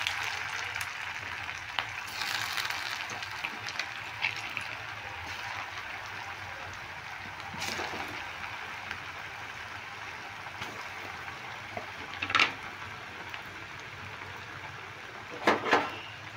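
Egg pakoras sizzle in hot oil at medium flame, a steady soft frying hiss with occasional brief pops and spatters, fairly faint and close with no talking.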